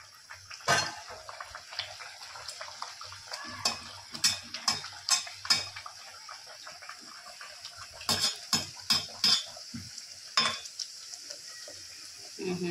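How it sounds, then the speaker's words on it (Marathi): A bhatura deep-fries in hot oil while a quiet sizzle runs underneath, broken by sharp clinks and scrapes of a metal spoon or ladle against the pan that come in irregular clusters, close and fairly loud. "आता आपण एक भटुरा टाकूया तेलामध्ये."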